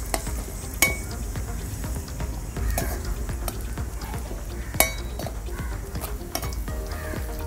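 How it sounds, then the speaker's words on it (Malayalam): Cashew nuts frying in a pan, a soft continuous sizzle broken by scattered clinks of a utensil against the pan, with a few sharper taps. "അണ്ടിപ്പരിപ്പിട്ട് നമുക്കിത് ഒന്ന് നല്ല ചുവപ്പ് കളറായിട്ട് നമുക്ക് എടുത്ത് വയ്ക്കാം"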